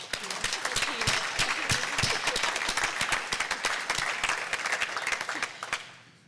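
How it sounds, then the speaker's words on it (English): Sustained applause from a conference audience at a plenary session, dense clapping steady throughout before tapering off at the end, with no one speaking over it. "Could we have another round of applause"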